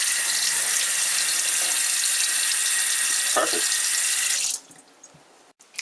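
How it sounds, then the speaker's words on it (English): Water runs steadily from a kitchen tap for several seconds during rinsing, a bright continuous hiss that cuts off abruptly near the end, followed by quiet with a single brief spoken word. "So you have clear water running."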